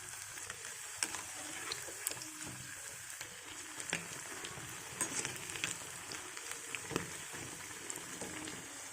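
Spinach leaves dipped in batter sizzle as bajji fritters in hot oil, a steady close crackling hiss with small scattered pops and clicks and no voices.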